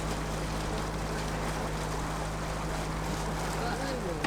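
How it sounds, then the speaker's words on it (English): Steady, heavy wind roaring and buffeting across the whole stretch on a narrowboat on the Oxford Canal, broadband and constant, with a faint low hum underneath and no clear voices. "it's a very windy day today"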